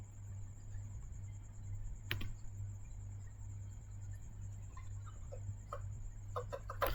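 Typing on a computer keyboard to enter a command, with a few sparse key taps early on and a quick cluster of clicks near the end over a steady low electrical hum.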